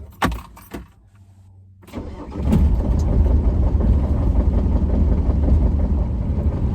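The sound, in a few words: diesel vehicle engine starting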